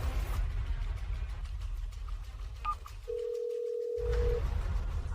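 A telephone call rings out, a single steady ringback tone sounding alone for about a second over low background noise.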